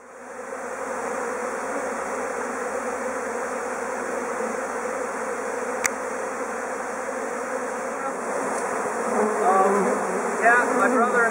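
Honeybees swarm around beehives being taken apart, a dense continuous buzzing that stays loud and close throughout, swelling slightly toward the end with a few sharper clicks.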